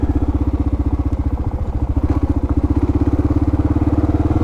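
A Kawasaki KLR650 dual-sport motorcycle runs steadily up close on a Forest Service road near Broaddus, Texas, its single-cylinder engine thumping in a rapid, even pulse with faint mechanical clatter on top.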